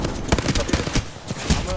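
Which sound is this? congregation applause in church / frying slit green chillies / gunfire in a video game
gunfire in a video game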